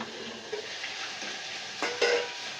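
Green chili chutney hits hot oil in a pan and sizzles steadily and close up, with a few light stirring clinks and scrapes, no talking.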